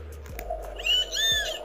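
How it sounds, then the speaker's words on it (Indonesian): A children's animal sound book plays a recorded owl call, a short sequence of close, bright electronic hoots and whistling tones with light clicks between them. "Ada suara apa nih? Burung hantu"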